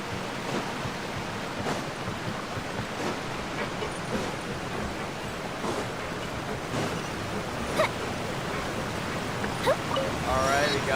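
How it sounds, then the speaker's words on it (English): A natural waterfall rushes with steady, broadband noise throughout, close and constant. A few faint voices talk over the roar. "This is a natural like waterfall and everything."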